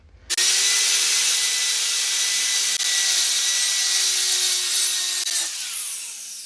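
Wood being sawn for a dishwasher cabinet door, a steady continuous loud rasping cut running for several seconds close to the microphone, with a tonal whine under it, and no one speaking.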